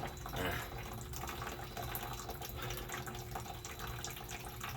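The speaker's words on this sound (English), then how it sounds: "making this drip all dramatic." Water running and dripping from a garden hose fitting on a pipe-thread adapter, a steady broadband splashing and trickle close by, continuous for the whole stretch with no talking.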